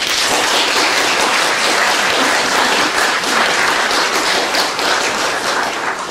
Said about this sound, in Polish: Jeszcze raz wielkie brawa.